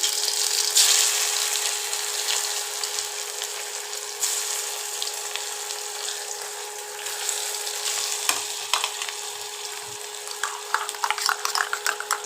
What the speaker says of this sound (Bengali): কড়াই তেল গরম করতে দিয়েছি, এবার আলুগুলো দিয়ে দেবো